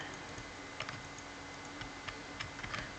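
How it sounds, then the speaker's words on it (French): Quiet computer keyboard typing and mouse clicks, scattered irregular taps close by over a faint room hiss, with no voices. "J'espère que vous entendez pas trop ma souris et mon clavier."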